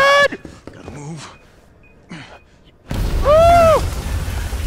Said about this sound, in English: I'm about to explode some walls